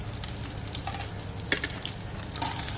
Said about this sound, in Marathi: चांगलं परतून घ्यायचं. चांगला तडका आपण केलेला आहे.